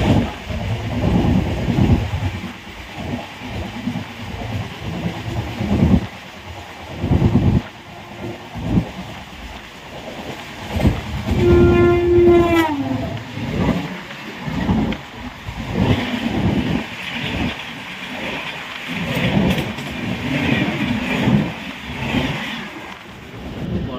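Interior of a moving train near Kolkata, with a steady rumble and rattle of the carriage that swells and fades, brief squeals and tonal whines mid-way, and no speech.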